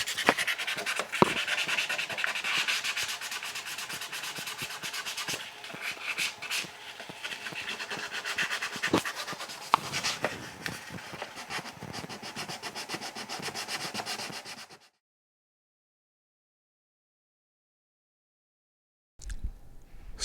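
Epoxy filling a chip on a snowboard being sanded by hand: a continuous, close scratchy rubbing with short strokes for about fifteen seconds, then sudden silence before a brief noise at the very end.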